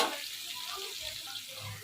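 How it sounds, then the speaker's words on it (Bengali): A soft, steady sizzle of chopped onion and garlic frying in oil, close by and quiet, with faint background voices. "এখানে আমি পেঁয়াজ আর রসুন কুচিটা দিয়ে দিলাম, তো এটা ভাজা হোক"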